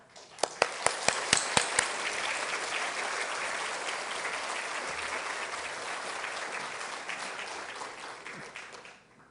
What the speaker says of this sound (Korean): 저희들이 큰 박수로 환영하겠습니다